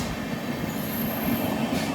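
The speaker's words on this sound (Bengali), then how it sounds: "ট্রেন ওভারটেক করে বেরিয়ে গেল।" The Howrah Ranchi Shatabdi Express rushes past on an adjacent track, a steady loud roar of wheels and coaches with a high wheel squeal, heard from inside another moving train.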